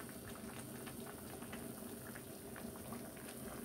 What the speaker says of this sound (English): our brown stew fish is cooking down with onion, with pepper, with garlic